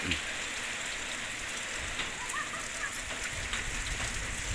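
Rain falls steadily, a constant close hiss with scattered heavier drops and no voices.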